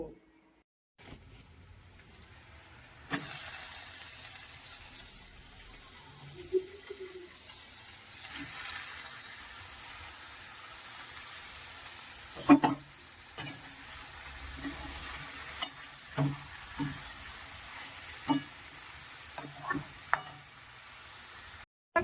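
Potatoes and onions fry in a pan for a home lunch, a steady sizzle running throughout with intermittent clinks and scrapes of stirring; no voices are heard.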